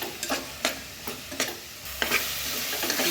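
Garam masala, chilli powder and spices fry in oil in a pan for a mushroom biryani, with a steady close sizzle broken by several scraping stirs of a spoon.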